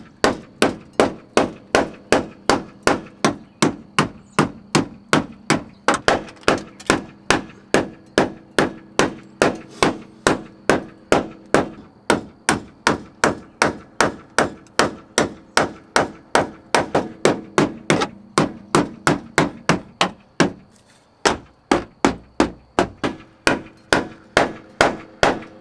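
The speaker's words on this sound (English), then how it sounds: "And I'm just gonna keep banging this stuff back." A big hammer pounds the pinch welds back on a 4th-gen Toyota 4Runner, dozens of loud, sharp metallic bangs striking in a steady, rapid rhythm up close, with a short pause near the end before the blows resume.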